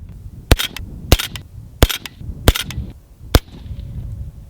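Ruger Mini 14 rifle firing Hornady Black ammunition at a target, five sharp loud shots spaced roughly evenly about a second apart, with outdoor echo between them.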